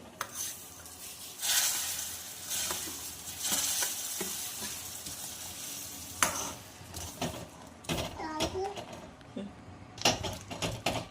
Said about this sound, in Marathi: थोडा थोडा रवा आपल्याला यामध्ये घालून छानपैकी असा मिक्स करून घ्यायचा आहे